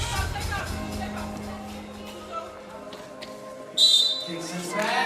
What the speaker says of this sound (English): Got another whistle.